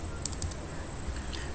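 Light keystrokes on a computer keyboard while a search for desktop software is typed, a few soft taps in quick succession over a steady background hiss, fairly quiet and with no talking.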